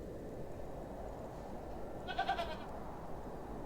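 A goat bleats in the video game Hob's Barrow, one short wavering call rising briefly over a steady low ambient hum, alone with no talk.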